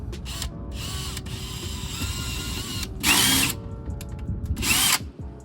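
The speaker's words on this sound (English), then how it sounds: "So I'll go ahead and drill through." A power drill whirs steadily, rising into two louder, higher-pitched bursts as the bit bites through a plastic car bumper, then winds down.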